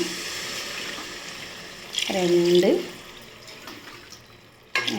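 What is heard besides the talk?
glasses of water poured onto basmati rice for biryani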